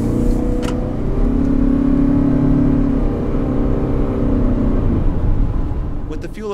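A 2020 Toyota RAV4 Hybrid accelerating, with a loud, steady engine drone and rumble filling the cabin that eases off toward the end.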